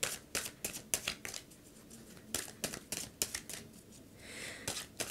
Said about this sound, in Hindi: पाइल को शफल करते वक्त थोड़ा टाइम लग सकता है